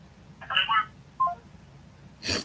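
Telephone keypad tones as a number is dialed back on a landline, a few short beeps in quick clusters followed by a brief louder burst, fairly quiet over a low background hum.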